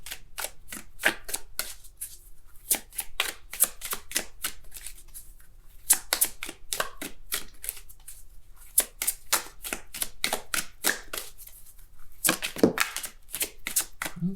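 Tarot cards shuffled steadily by hand in a quiet room, a long run of crisp, rapid riffles and soft slaps that repeat in quick bursts with brief pauses between, close and alone.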